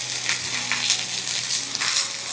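Ginger and garlic stirred and frying in a pan, a close crackling sizzle with a few scraping stirs and light taps, short and steady with no talking.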